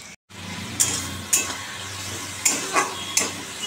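Fish curry simmering in a pan with cumin powder, onion and spices, a steady soft sizzle broken by several sharp clinks and scrapes of a utensil against the pan.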